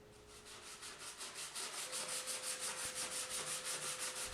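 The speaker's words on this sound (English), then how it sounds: "Let dry before you sand." Rhythmic back-and-forth sanding of dried putty patches over fastener holes in a wall, steady strokes repeating about five times a second, close and fairly quiet with no voices.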